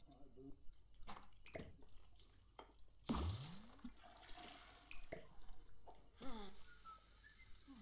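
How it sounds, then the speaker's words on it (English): Water runs and splashes from a shower in The Sims 4, with scattered game effects and a voice talking over it; one louder gushing burst stands out midway. "I'm gonna have her use and take a brisk shower and go to sleep"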